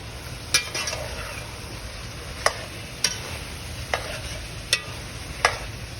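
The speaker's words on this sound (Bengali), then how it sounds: "এখন সবজি দিয়ে একটু কষায় নেব" Vegetables including bitter gourd are sautéed with cooked-down spices in a pan, a low steady sizzle broken by about six sharp spatula knocks against the pan, close up and without talk.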